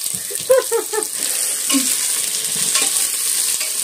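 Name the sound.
tempering sizzling in pan for fresh pigeon pea sambar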